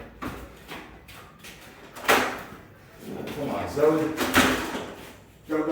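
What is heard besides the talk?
door opened and closed to let a dog out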